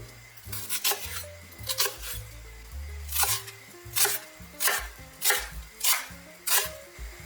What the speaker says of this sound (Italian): Tagliamo una cipolla a pezzi piccoli